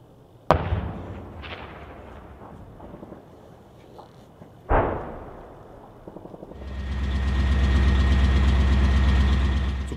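A Panzerhaubitze 2000 self-propelled howitzer at an artillery training range fires two sharp, booming shots a few seconds apart, each with a rolling echo, followed by a loud, steady engine rumble that swells and holds.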